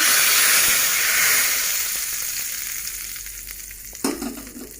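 A dill and fenugreek dal gets its tempering in a hot pan, giving a loud, steady sizzle and hiss that slowly fades, with a sharp crackling burst near the end. No one speaks.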